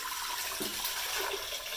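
Water poured into a cooking pot while making ven pongal, a steady splashing, gushing pour that runs close and fairly loud for the whole moment.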